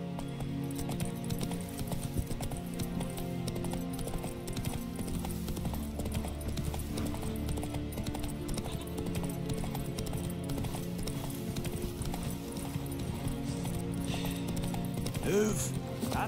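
Roach the horse gallops in The Witcher 3, hooves clip-clopping in a quick steady rhythm under game music, with a brief whinny near the end.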